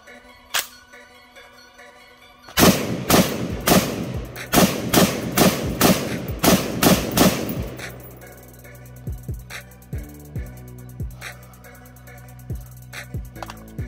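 Firearm shots at an outdoor gun range: a quick series of about nine loud, sharp reports in a row, followed by quieter thumps and a fading echo-like tail.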